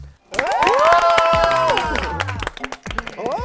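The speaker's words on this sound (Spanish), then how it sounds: "Por favor, reciban con un fuerte aplauso a Gala." A studio audience at a drag competition show bursts into loud cheering, with high, shrill whoops and screams over applause, then breaks into scattered shouts and claps that fade unevenly.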